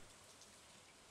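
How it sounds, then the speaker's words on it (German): Rain falls steadily in the Stardew Valley farming game, a quiet, even hiss of drops spread across the whole moment with no voices over it. "Ich habe so einen komischen Sound gerade gehört. Tatsächlich, es regnet."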